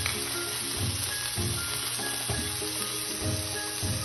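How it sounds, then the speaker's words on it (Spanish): Beef sizzling in hot oil in a skillet for a stew, a close, steady crackling hiss with soft stirring thumps repeating every second or so, no voices. "vierte un poco de aceite. Agrega la carne."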